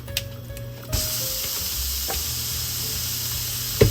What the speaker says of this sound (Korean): 달궈진 팬에 기름을 두르고 소고기 다짐 육 400g을 넣어주세요.